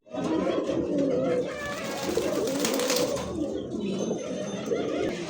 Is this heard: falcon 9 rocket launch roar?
no